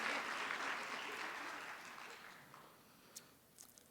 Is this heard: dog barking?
no